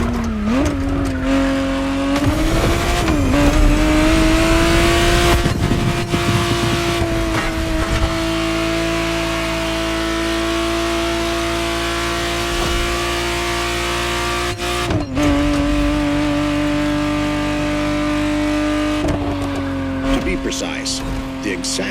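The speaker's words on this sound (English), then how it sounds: "the exact model MOTORFEST has put in your hands is the 1991 re-engineered version of the Testarossa, introduced as the 512 TR" A 1991 Ferrari 512 TR Testarossa in The Crew Motorfest drives with a loud, sustained engine drone that rises in pitch, holds, and shifts through gears, with brief tire squeals and someone talking over it.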